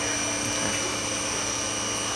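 An automated welder working on a bookcase base gives off a continuous steady electrical hum and buzz with a faint crackle, loud and unbroken throughout.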